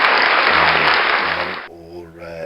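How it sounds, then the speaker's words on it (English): Applause sound effect fired from a cheap button soundboard, a dense burst of clapping that cuts off abruptly partway through, followed by a short tone as a voice carries on. "Round of applause,"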